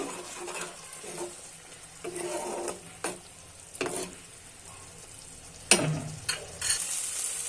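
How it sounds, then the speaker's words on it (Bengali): Spices being fried and stirred in a pan for a cauliflower and spinach mixed vegetable dish, with intermittent scraping stirs and bursts of sizzle, a louder clatter near the end, close and without talking. "এখন আমি ভালো করে মশলাগুলোকে কষিয়ে নিব"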